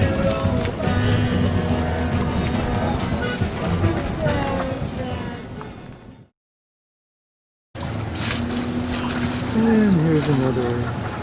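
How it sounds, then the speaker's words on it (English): A watercraft moves across the water with a steady wash and churning noise, broken by a short gap of silence, while someone speaks over it. "more civilized vehicle, watercraft."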